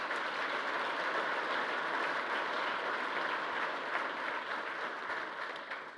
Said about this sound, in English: Yeah, you can applaud them